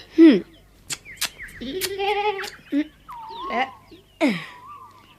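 A goat bleats repeatedly, close and fairly loud, in wavering, quavering calls with short gaps between them, alone with no talking.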